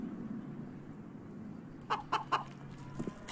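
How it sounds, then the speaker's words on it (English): A chicken in the CS:GO video game gives a few short, distinct clucks late in the sequence, moderately close over a low steady game hum, with no talking. "Oh, is the chicken okay?"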